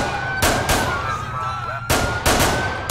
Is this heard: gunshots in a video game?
yes